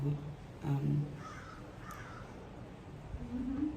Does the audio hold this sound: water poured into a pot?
no